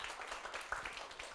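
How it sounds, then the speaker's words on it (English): Brief round of applause from club officers at a Toastmasters training meeting, a steady dense patter of many hands clapping at moderate distance, faint and continuous. "So please give yourself a big round of applause."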